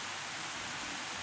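Rain falls in a steady, even hiss that fills the whole short stretch with no voices or other distinct sounds.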